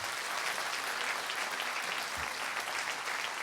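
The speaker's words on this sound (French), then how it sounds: "Elles méritent et ils méritent vos applaudissements, les bénévoles du festival" An audience applauds the festival volunteers at the closing ceremony of the 36th Festival Mont-Blanc d'Humour, a steady, even wash of clapping heard from a distance and fairly quiet throughout.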